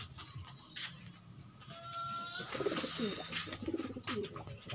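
Breeding pigeons sun themselves while cooing in soft, repeated throaty phrases that come close by in the second half, with faint bird chatter and low background noise around them.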